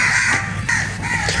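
Several crows caw in a village, with loud, harsh, close calls repeating in quick succession over a steady background hum and no talking.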